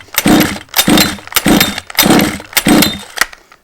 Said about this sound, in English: flooding the engine. Now this can be done by continuously pulling the engine like so